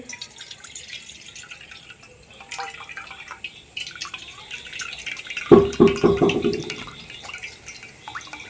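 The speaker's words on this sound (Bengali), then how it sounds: "এবার আমি মুগ ডালটা ছেঁকে নিচ্ছি।" Washed mung dal is strained as water drains through, with soft drips and clatter before a louder splashing pour of water for about a second, then trickling off.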